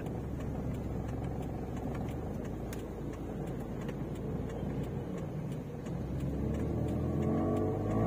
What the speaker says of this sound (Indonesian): Betul exhaust bunyi macam tu.